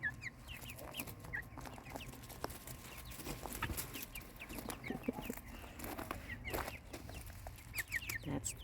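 Several chickens, including an Orpington hen, cluck and chatter in short bursts close by, with scattered higher calls and a steady farmyard background.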